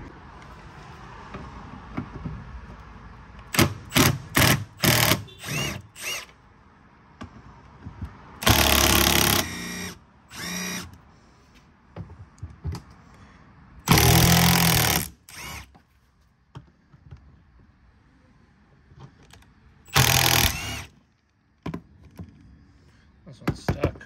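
A power tool zips out 10 millimeter bolts on the rear bumper of a GX470, giving several short loud bursts of rattling whir separated by quieter clicks and handling noises.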